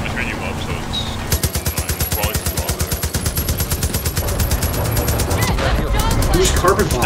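Carpet bombing in the video game Far Cry 5: a rapid, evenly spaced train of heavy blasts that starts abruptly and keeps pounding for several seconds, loud and close, with a whine running above it.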